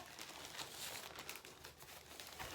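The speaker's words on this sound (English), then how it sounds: "If I didn't insist on putting everything back in its stupid little plastic bag" A plastic bag crinkles steadily and faintly as craft fabric for stitching is tucked back inside, giving a continuous rustle of small crackles with no voices.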